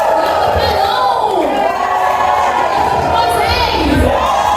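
A children's team crowd cheering and shouting together indoors, a loud sustained wall of young voices with rising and falling whoops and cries.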